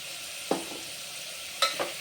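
Ginger garlic paste and curry leaves hit a pan for a peanut curry, giving a soft, steady sizzle hiss broken by two or three sharp utensil clicks close by.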